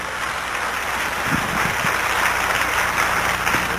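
A church congregation at a New Year blessing revival service claps together, a dense, steady wash of hands from a large crowd, loud and continuous without a break.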